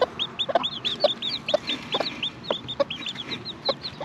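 A mother hen clucks near her newly hatching chicks, close and fairly soft. Her low rhythmic clucks come about every half second, under a steady stream of high chick peeps.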